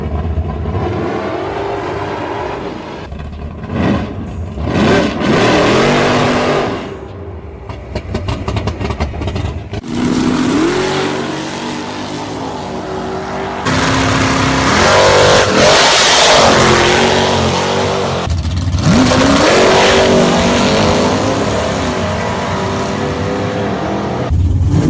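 A loud 1960s Dodge HEMI Dart muscle car engine revs hard in repeated surges, rumbling deep between throttle blips and climbing to a sustained roar.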